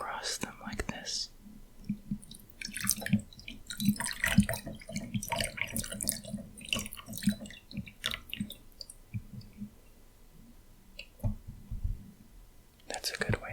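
Tea is poured across a row of small glass gong fu cups as a soft, intermittent trickle and splash, close up, under quiet whispering.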